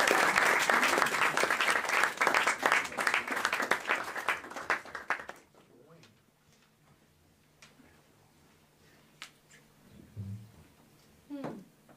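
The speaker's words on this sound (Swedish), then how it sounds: "Stor applåd!" An audience at a jazz concert applauds the next band, loud dense clapping that dies away after about five seconds into a quiet room with a few scattered sounds.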